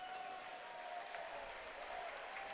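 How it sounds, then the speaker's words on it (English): Baseball fans at PNC Park giving mock cheers after a strike, a faint, distant wash of applause and cheering that holds steady through the moment. "And the mock cheers from the folks on hand here at PNC Park"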